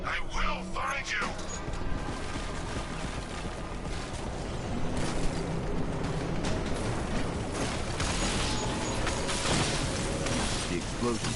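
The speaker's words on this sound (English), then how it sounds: "The explosion disabled the main cannon." An explosion goes off in Batman: Arkham Knight, with loud rumbling blasts and mechanical clatter rolling through dense game action, sustained and heavy throughout.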